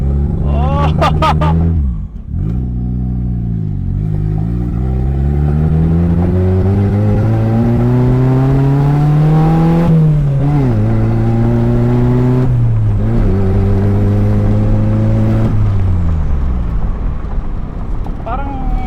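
A 1989 Toyota Corolla engine with cracked, leaking exhaust headers revs loudly and close by. The pitch climbs and falls through several long revs, with raspy exhaust noise and brief dips between pulls.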